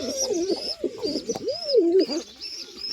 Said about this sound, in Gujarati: અહીં મિત્રો સફેદ કબૂતરના બચ્ચા છે